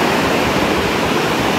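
Sea waves at a Melbourne beach, a loud steady wash of surf noise filling the scene without break or voices.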